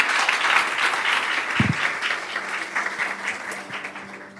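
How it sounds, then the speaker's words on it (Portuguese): A church congregation applauds throughout, a dense, sustained clatter of many hands clapping at steady loudness with no talk over it, tapering only slightly toward the end. "Você pode aplaudir ao Rei dos Reis, Senhor dos Senhores"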